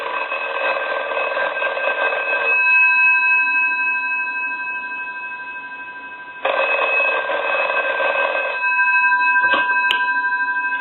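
A British desk telephone bell rings in two long bursts with a pause between, loud and close, followed by a brief click or clatter.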